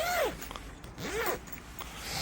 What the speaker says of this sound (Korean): 궁금해서 이 지퍼를 한번 열어봤거든요